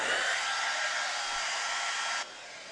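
A hair dryer blows a steady, loud airy whir over damp paint on an artwork, then drops abruptly to a lower setting near the end.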